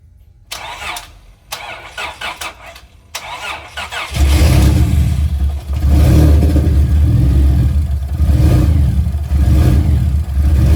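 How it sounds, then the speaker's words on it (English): A Honda Accord V6 coupe fitted with a turbo cranks through several stuttering starter bursts, then fires up and settles into a loud, rough idle with small rev swells, close by. "basically we got the car started"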